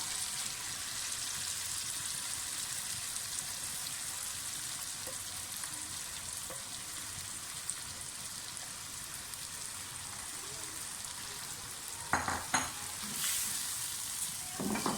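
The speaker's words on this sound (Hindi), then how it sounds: "अब साथ ही मैं वो मैरिनेट किया हुआ चिकन डाल दूँगी दही के साथ।" Yogurt-marinated chicken frying in masala gives a steady, dense sizzle and crackle, with stirring scrapes and a few louder clatters near the end.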